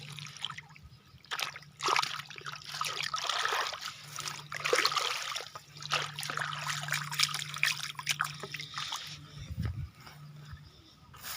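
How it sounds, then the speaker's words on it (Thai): Water trickles and splashes into a rice paddy field outdoors: a faint, uneven dribbling and gurgling that runs continuously, with a low hum underneath and no one talking. "นี่คือการเอาน้ำเขานา"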